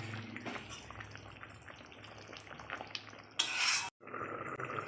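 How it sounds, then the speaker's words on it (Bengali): Fried koi fish pieces are dropped into a bubbling curry in a pot, with soft stirring, utensil clinks and a brief loud sizzling splash near the end, heard close. "এবার আমি ভেজে রাখা মাছগুলো দিয়ে দেব।"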